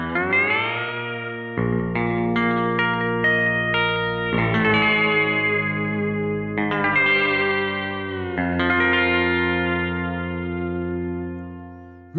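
Virtual steel guitar app played through an expressive effects processor on iOS: sustained, chorused and slightly distorted sliding chords ring continuously, with notes changing every second or two and no talk.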